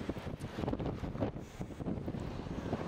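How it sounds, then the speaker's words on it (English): Wind buffets the microphone at a surf beach lookout at Loch Sport on a bright day, a steady broadband rush and rumble gusting throughout with no voices. "Beautiful day here, a little bit windy."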